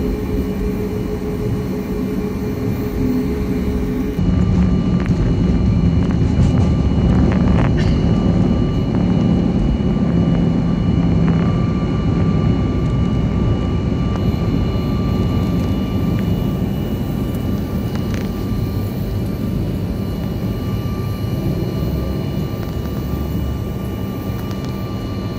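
A Copa Airlines Boeing airliner takes off, the engines holding a loud, steady roar heard from inside the cabin, with a faint rattling of the fuselage as the run goes on and a voice speaking briefly over it.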